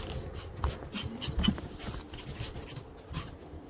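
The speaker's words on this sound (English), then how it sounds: "Two of these dogs are barking." Dogs barking in the middle distance, a few scattered sharp barks over a steady background hum, with no voices.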